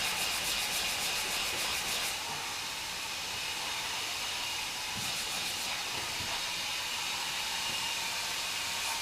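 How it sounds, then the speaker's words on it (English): Sandpaper wrapped on a flat block rubbing over a car fender during a DIY repair, a steady close abrasive hiss with rhythmic strokes that pause briefly, no voices. "Got to get the sandpaper down lower."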